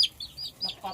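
Chickens and young chicks in a new coop give short clucks and high peeps in a quick burst of calls, heard close and clear. A faint voice may be present underneath.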